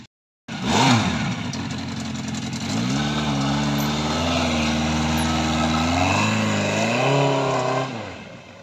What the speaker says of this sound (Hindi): ये बाइक वाला जस्ट निकल रहा है और क्या आवाज़ है बाइक की